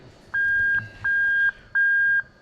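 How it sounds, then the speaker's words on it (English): A loud electronic reverse buzzer in a Lexus IS200 beeps repeatedly in an even rhythm, four steady high-pitched tones separated by short pauses, with no voices. "we can hear the reverse buzzer going off there"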